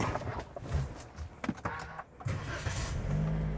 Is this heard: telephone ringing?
no